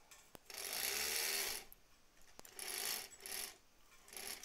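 A home sewing machine starts up on a no-elastic fabric face mask, whirring in three or four short runs with brief pauses and clicks between, fairly close and moderately quiet.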